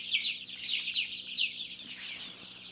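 Chickens cluck and chatter steadily on a poultry farm, with repeated short calls from several birds at close range and no voices over them.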